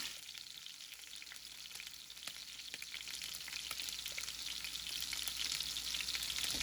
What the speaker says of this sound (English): So we will just fry them for a minute